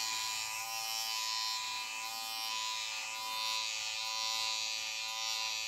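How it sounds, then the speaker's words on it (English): A King C Gillette Style Master electric shaver shaves a lathered face with a steady, close, high buzz, constant throughout, with no talking. "let's go ahead and shave with this"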